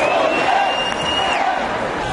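A crowd jeers an Italian politician, a dense, continuous roar of many voices with one high sustained cry running through it, loud and unbroken throughout.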